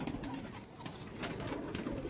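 High flying pigeons coo steadily in a dense, continuous low murmur nearby, several birds overlapping without pause and no voices.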